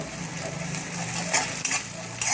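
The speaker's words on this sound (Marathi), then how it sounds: "त्याला पण फ्राय करून घ्यायचं आहे मस्त मोठ्या आचेवर" Crushed ginger and garlic frying over high heat in a kadhai for egg biryani, a dense, loud crackling sizzle with occasional stirring scrapes, close and continuous, no speech.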